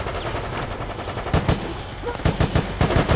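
Gunfire in the zombie shooter Resident Evil: Operation Raccoon City: after a stretch of dense game ambience come several sharp bursts of rapid automatic shots, loud and close, with no voices.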